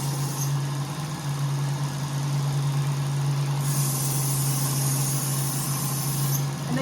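A Work Sharp Ken Onion belt knife sharpener runs with a steady, close motor hum throughout, joined midway by a brighter grinding hiss that lasts a few seconds as a blade meets the belt.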